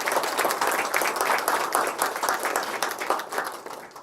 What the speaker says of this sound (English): Let's give to prima ballerina of Bolshoi Theater and great actress of cinema, Madam Ksenia Rybinkina, our great applause